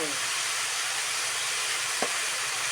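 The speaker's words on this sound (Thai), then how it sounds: "ผัดไปเรื่อยๆ" Egg, cucumber and glass noodles stir-fry in a hot pan with a loud, steady sizzling hiss, broken by one brief spatula scrape.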